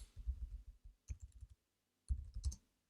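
Someone types on a computer keyboard in a text editor, two quick bursts of close, crisp key clicks separated by a short pause.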